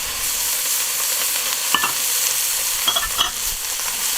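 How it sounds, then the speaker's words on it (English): Bacon, shallots and mushrooms fry in a pan under a constant sizzle while a utensil stirs and scrapes them in a few distinct strokes, close up and without talk. "make sure that you stir it very frequently"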